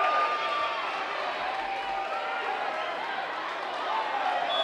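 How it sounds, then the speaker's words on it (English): At a college volleyball match, a large indoor crowd cheers and roars in a steady, dense wash of noise that holds throughout, with no clear breaks. "The crowd is going wild."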